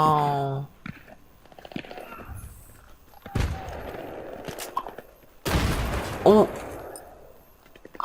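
Battlefield 3 multiplayer gunfire comes in scattered shots and bursts, some sharp and close, others distant, with a louder blast near the end, while players talk over the action.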